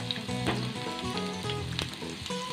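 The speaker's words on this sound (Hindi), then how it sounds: "इसमें मैं प्याज ऐड करूंगी पहले" Sliced onion crackles and sizzles loudly in two tablespoons of hot oil in a frying pan, a dense close hiss with scattered pops, while some faint tonal sound plays underneath.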